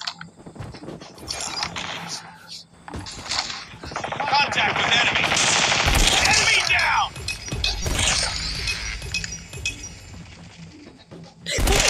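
Gunfire and shattering clinks in a shooter video game during a 360-degree trick shot, with dense bursts of shots and crashes filling the middle of the clip over game ambience, and a voice speaking at times.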